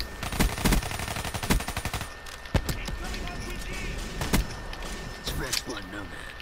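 Rapid bursts of gunfire in Call of Duty Black Ops 3 multiplayer gun game, loud repeated shots in quick runs with single sharp reports between, under players talking.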